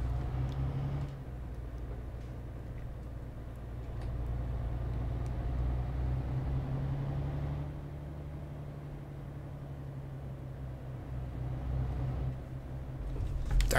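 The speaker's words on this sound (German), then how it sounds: "Da kommt ein Auto." A car passes by in Euro Truck Simulator 2, a steady low engine rumble that swells and eases over about fourteen seconds with no talking.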